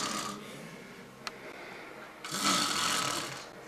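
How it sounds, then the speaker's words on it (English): A man snores loudly in his sleep, with a quieter snoring breath early on and a long, harsh, rasping snore swelling near the end, alone without talk. "he even snores louder than I do"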